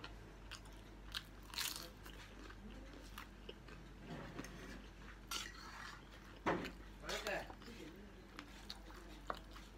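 Crunchy bites into martabak, a savoury stuffed pancake, come as several sharp crackling bursts at a close distance with quiet gaps between them, over a low background hum.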